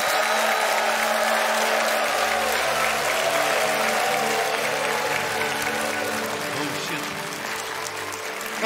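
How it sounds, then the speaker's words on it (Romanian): An audience claps for a dance troupe on stage, a loud, continuous burst of applause with low musical tones underneath and faint voices, easing slightly toward the end. "să-i primim cu aplauze pe cei din trupa Asynchron."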